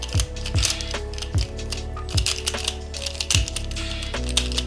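Crisp plastic clicks and clacks from a small magnetic puzzle cube with very strong magnets being turned repeatedly, close up, with sharper snaps at irregular intervals over a steady low hum.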